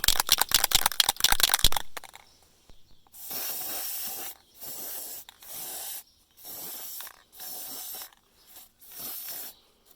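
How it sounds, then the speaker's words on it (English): Aerosol spray paint hisses in a series of steady bursts, about six evenly spaced sprays with short pauses, as a second coat goes onto a vintage hanging yoke light, preceded by a quick rattling shake of the can. "I'm going to respray it for my second coat"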